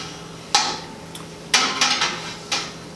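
Several sharp metallic clanks and taps spaced about a second apart, close by, as a metal wort chiller coil is lowered into a hot brew kettle and knocks against its rim.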